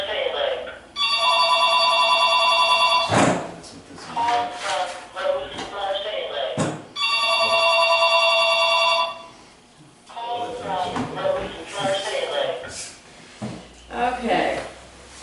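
A telephone rings twice in long electronic bursts during a city board of aldermen meeting, with a roll-call vote and people talking in between and over it.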